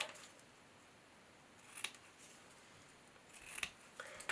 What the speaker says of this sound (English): and then from here you just snip